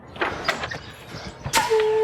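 An interior door is pulled open amid a shuffle of movement, ending in a drawn-out creak or squeal from the hinges; nearby and fairly loud, with no talk over it.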